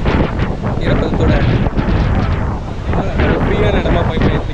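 Strong wind buffets the microphone at Marina Beach in Chennai, a loud, continuous roar with gusty surges throughout, with crowd voices mixed in beneath it.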